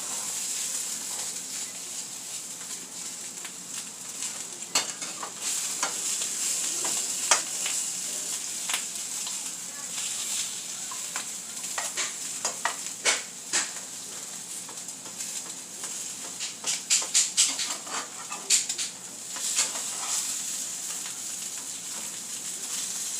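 French toast, some slices cinnamon-coated, sizzles steadily in a pan with a continuous frying hiss, broken by sharp scraping clicks and taps as the slices are repeatedly flipped.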